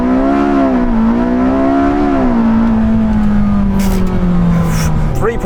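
Porsche 918 Spyder accelerating hard from a standstill to 60, engine note climbing and holding at a loud, close roar with a rising whine throughout, with brief faint sounds near the end.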